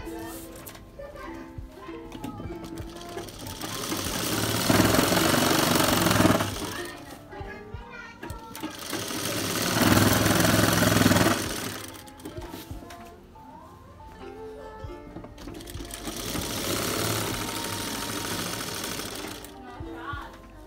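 A sewing machine stitches a side panel (kali) of a lined Lucknowi gharara, running in loud bursts of several seconds separated by brief pauses, with children's voices and play faintly in the background.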